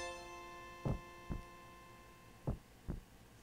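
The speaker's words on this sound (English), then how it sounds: "I hear heartbeat." Heartbeat sound effect in Final Fantasy VIII Remastered: four dull, low thumps in two double beats over a steady tonal game hum, with no talking.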